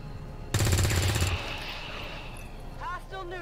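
A short, sharp burst of automatic fire rings out in an XCOM 2 War of the Chosen battle, then a tail of echo and ambience, with a voice speaking afterward.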